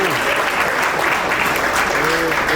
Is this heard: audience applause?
yes